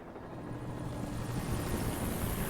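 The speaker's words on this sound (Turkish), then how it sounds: "Bana helikopter demeyin hocam." A helicopter in the video game Alan Wake drones steadily, its rotor chop and engine whine building gradually louder as it nears, a continuous mechanical thrum with no talking over it.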